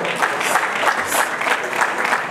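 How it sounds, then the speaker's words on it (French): Steady applause from an audience at an award ceremony, dense and sustained clapping filling the room without a break, loud and fairly close, with faint crowd murmur underneath. "Et je vous demande de l'applaudir très très très fort."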